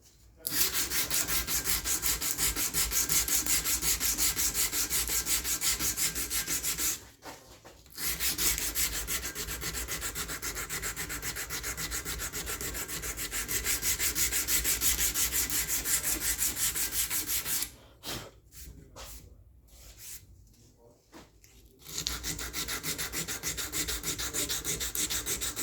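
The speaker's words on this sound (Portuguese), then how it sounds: "Fiz aqui a primeira passada aqui da lixa 80" Hand sanding of a knife blade with 80-grit sandpaper, a steady rasping scrape repeated in long continuous strokes, close and loud, broken by two short pauses.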